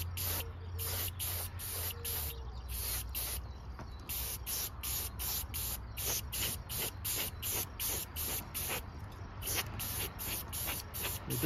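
An airbrush sprays paint in steady, closely repeated short bursts, a soft hiss heard up close on a Hermes 8 paint restoration with no talking.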